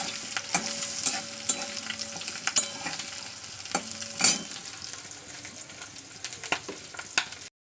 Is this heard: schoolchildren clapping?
no